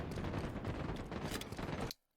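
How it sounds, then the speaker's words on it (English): Rapid gunfire rattles in a first-person shooter match, a dense continuous burst of shots at moderate distance that cuts off abruptly near the end. "you hear the gunfire to your left"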